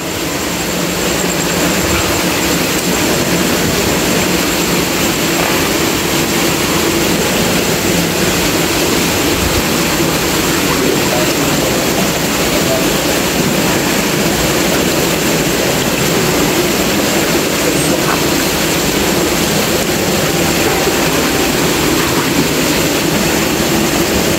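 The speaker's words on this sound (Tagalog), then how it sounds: "pinahinaan natin yung tubig ng ating kasama. Kasi masyadong malakas kasi yung tubig." A strong flow of water pours into a fish pond, making a loud, broad, constant rushing roar that stays even throughout without pauses or voices.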